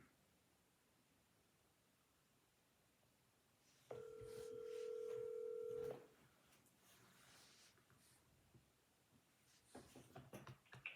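A phone call is placed for a live tarot reading. A single steady telephone tone sounds for about two seconds in otherwise quiet surroundings, then faint rustling and small clicks follow. No one speaks.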